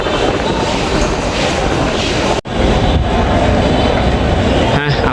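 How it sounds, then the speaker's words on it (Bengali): A metro rail train runs along the track with a loud, continuous rumbling roar and rhythmic rail clatter, broken by one brief dropout midway, with a voice faintly underneath. "আপনাদের আজকে দেখালাম মেট্রো রেল ভ্রমণ"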